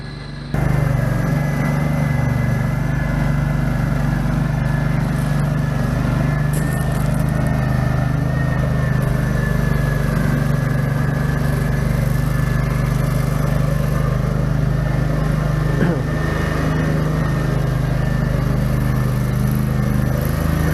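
A Canycom concrete track buggy's engine drones steadily for the whole stretch, a loud, close, low rumble with a constant mechanical hum as the machine drives around.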